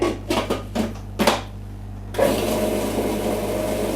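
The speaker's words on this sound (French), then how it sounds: "On va mettre dans le mixeur" Kitchen blender puréeing avocado and red pepper, first a few short pulsed bursts, then a steady continuous whirring run, close and moderately loud.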